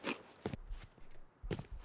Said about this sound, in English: I hear a lot of footsteps above me